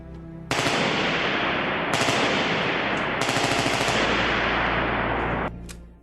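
An M14 rifle fires a sustained full-automatic burst, a loud, dense stream of shots close by that runs for about five seconds, with two brief breaks or changes partway through, and no talking.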